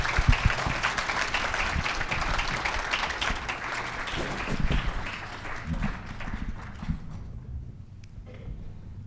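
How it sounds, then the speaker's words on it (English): Applause from a gala business forum audience after a mayors' roundtable, a broad wash of clapping that rolls on for several seconds and thins out near the end, moderately loud with no clear speech. "let's give a big round of applause"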